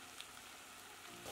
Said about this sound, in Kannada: ಟೊಮೆಟೊ, ಹಸಿಮೆಣಸಿನಕಾಯಿ ಚೆನ್ನಾಗಿ ಫ್ರೈ ಆಗಬೇಕು.